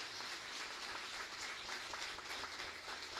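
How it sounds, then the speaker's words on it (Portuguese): Faint, distant applause at a church leaders' conference, a soft continuous patter of many hands clapping at a low level throughout. "Vamos aplaudir ao Senhor, fiquei tão contente."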